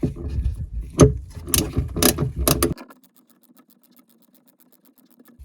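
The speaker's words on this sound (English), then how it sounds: "I will transition back to the ratchet and socket." A ratchet and socket tightens the engine bolts on a 951DI direct-injection jet ski engine during a rebuild, giving close, loud bursts of clicking and metal scraping that stop abruptly and leave near silence.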